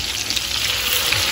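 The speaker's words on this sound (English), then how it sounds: "Ooh, got a nice sizzle on there." Meatballs browning in a pan hiss and sizzle steadily right after a little water is added, a loud, continuous close-up crackle with no talk.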